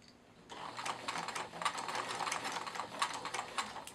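A sewing machine stitches curves on plush otter fabric, a quiet close rapid clatter that starts after a brief pause and runs in uneven bursts, with small pauses for pivoting.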